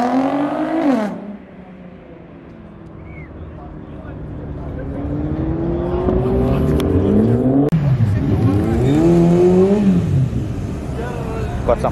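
A Nissan Skyline GTR at a Sunday drag meet revs loudly, its engine note climbing and dropping in repeated swells. Crowd chatter and voices mix in the background.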